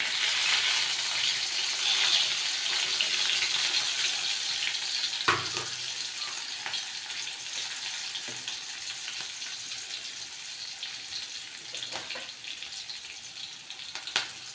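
Garlic and green chilies fry in hot oil on a low flame, making a continuous close hiss with occasional pops and a few clinks of a utensil, no talking.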